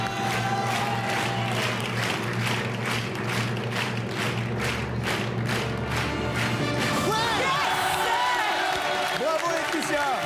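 A TV game show studio audience for 1 contre 100 bursts into rhythmic applause for a winning contestant, loud and steady, with cheering and music swelling near the end.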